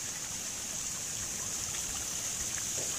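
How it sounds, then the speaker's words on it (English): Steady, gentle flow of water in a garden fish pond, an even outdoor rush and trickle that holds at a constant low level throughout without pauses. "the sound of the water."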